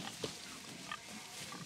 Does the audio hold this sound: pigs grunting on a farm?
yes